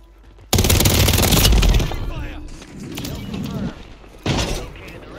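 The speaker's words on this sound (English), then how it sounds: "I was shooting straight at them and they just stopped everything." Loud bursts of automatic gunfire in Call of Duty: Warzone (Modern Warfare III, Vondel map), a heavy volley followed by scattered shots and a second burst, with players talking over the action.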